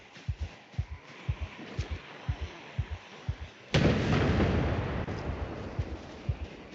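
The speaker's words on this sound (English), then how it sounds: "so here's your aerosol bomb" An aerosol bomb in a video game bursts into a loud, sudden fiery blast after a run of steady rhythmic thumps, with a sustained roaring hiss of flames that slowly fades as the thumping continues.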